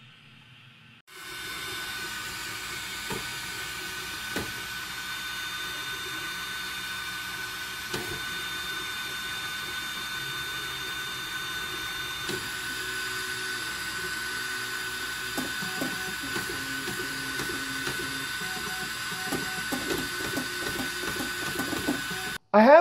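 A 3D printer with Trinamic 2130 stepper drivers prints infill, its stepper motors giving a steady, faint whirring hum with quick ticks and shifting tones as the head moves back and forth.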